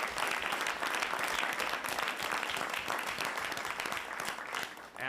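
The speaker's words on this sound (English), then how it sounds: "Will you join me in giving all of them a round of applause?" A crowd claps for city officials at a New York City mayoral announcement on equal pay for day care workers, sustained, even applause that is moderately distant and continues steadily throughout.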